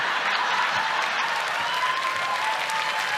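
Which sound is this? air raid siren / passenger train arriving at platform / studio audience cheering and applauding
studio audience cheering and applauding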